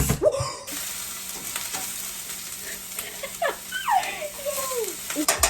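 Curry chicken cooking in a pan on the stove with the heat turned down, a soft continuous sizzle with a few stirring scrapes and clinks, close and moderate in level.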